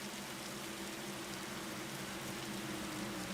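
Soft continuous rain hiss during a Richmond 175 stock car race in a racing video game, faint and even with a low steady hum beneath and no talk.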